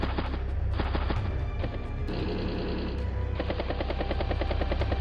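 A battlecopter attack in Advance Wars: Days of Ruin rattles out as rapid machine-gun fire over a rotor drone, loud and steady with a few sharp impacts and no talking.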